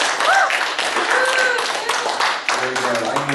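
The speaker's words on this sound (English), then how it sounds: "Give them another round of applause if you would" A crowd at a small-town summer festival stage show gives a round of applause, scattered claps mixed with audience voices and a few whoops, moderately loud and close.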